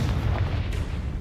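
Confringo blasting spell cast in a Harry Potter video game, a dense low rumbling blast that fills the whole moment without a break, loud and close, with no speech over it.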